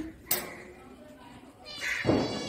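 A single cat meow rises near the end after a sharp thump, with quiet voices and room noise around it, aboard a train.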